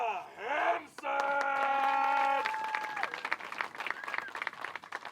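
A disc golf tournament crowd claps and cheers for Ella Hansen, the applause swelling after a brief whistle-like tone and fading into scattered clapping, with a voice heard near the start.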